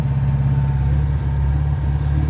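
A DAF 46 classic car engine runs steadily at idle, a close, continuous low mechanical drone with an even, fast pulsing rhythm and no speech.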